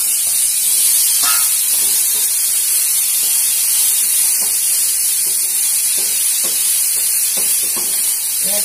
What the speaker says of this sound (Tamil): வேர்க்கடலை போட்டு 2 நிமிஷம் அந்த காரம்லாம் ஒண்ணு சேர்த்துக்காங்க.